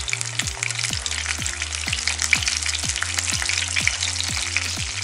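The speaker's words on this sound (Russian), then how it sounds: "И отправляем обжаривать кабачки." Salted young zucchini slices fry in a pan, giving a loud, dense, continuous sizzle up close with no talking.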